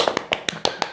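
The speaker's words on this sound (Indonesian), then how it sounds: "Tepuk tangan dong." A few people in a podcast studio clap their hands on request, six distinct sharp claps in a quick, slightly uneven rhythm, close and loud.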